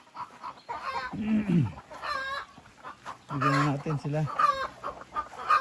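Farm chickens cluck and squawk in short bursts as they are fed, fairly close, with someone speaking briefly between the calls.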